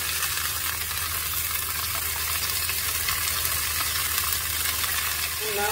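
Beef steaks fry in hot oil in a crowded pan, a steady, dense sizzle and crackle holding loud and even from start to finish with no voices.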